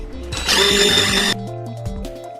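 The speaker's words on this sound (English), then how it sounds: "We're going to blend it up with a drill" A loud power drill whirs steadily for about a second while mixing silicone in a bucket, then cuts off, leaving lower mechanical hum and clatter.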